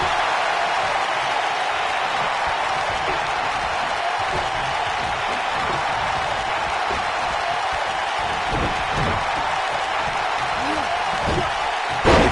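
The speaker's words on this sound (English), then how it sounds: "Listen to this crowd count the next one in." Wrestling arena crowd in the WWE 2K19 video game, a broad, steady roar of many voices filling the whole stretch, with a few sharp thuds and slams from the ring cutting through near the end.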